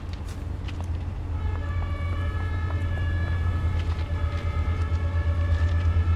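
A train departs from a station near Dresden in Train Sim World 4. A loud, steady low rumble carries through, with rising whining tones building over it, and no talking is heard.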